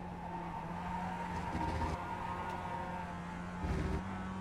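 A race car drifting at Okayama in a racing sim game, with a continuous engine drone and tire squeal holding steady at moderate level, surging briefly twice.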